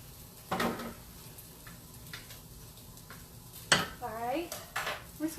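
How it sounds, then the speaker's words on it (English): Cream cheese being stirred into a crunchy cheesy hamburger casserole in a pot, with scattered close clinks and scrapes of a utensil against the pot and a few faint voice-like tones between them. "we're just going to stir it around in here, melt it up"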